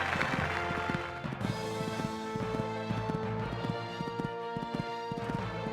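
Horse cantering on an equestrian course at a beginner championship, steady rhythmic hoofbeats at moderate distance over a droning, tonal background hum.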